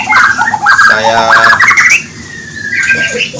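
Oriental magpie-robins (murai) call from breeding cages at a small bird farm, a close, loud run of sharp squawks, chirps and whistled phrases, ending with a long thin whistle and fainter chatter.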